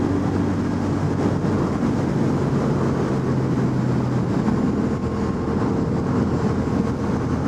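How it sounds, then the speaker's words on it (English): Engine of a 2025 CFMoto CLC 450 motorcycle while riding, a steady droning rumble with wind rush that stays constant and loud throughout, with no talking. "Like I said, that engine sounds good."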